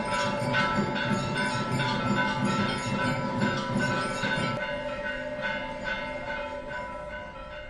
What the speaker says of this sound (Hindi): शंख घंटी की ध्वनि से पूरा वातावरण भक्तिमय हो गया।